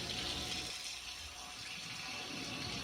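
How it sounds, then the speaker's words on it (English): Water from a sink hose rushes steadily through a Norvell Zgun spray gun held open at the trigger, a continuous hissing gush at moderate level with no talk. "you're going to hold the trigger back and run water through it until it runs clear."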